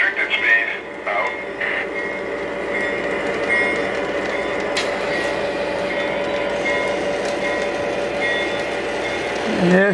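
Two box car trains run on a model train layout, giving a steady mechanical rolling hum and faint clicking with a few brief tones, moderately close, while a voice speaks.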